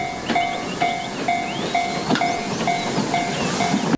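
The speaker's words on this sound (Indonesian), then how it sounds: "ada kereta Thomas merah" A red Thomas toy train's electronic whistle tones repeat in short regular bursts, with faint clattering and hissing underneath, close by.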